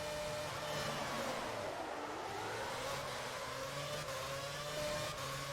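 An F1 car's engine whines at high revs in the F1 2011 racing game, and a missed gear change makes the pitch dip and recover. The steady, fairly quiet drone runs without talk.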